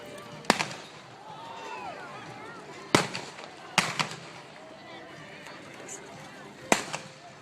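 A single-action cavalry pistol is fired in four sharp, loud reports spaced a few seconds apart over a murmur of crowd and outdoor ambience at a rodeo.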